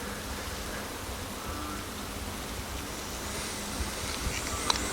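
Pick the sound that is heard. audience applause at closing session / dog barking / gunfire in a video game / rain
rain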